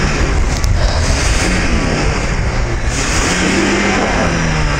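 A Lada Niva engine revs hard while pulling another car by tow rope, a loud, close, sustained mid-pitched roar that rises and falls in pitch across several seconds.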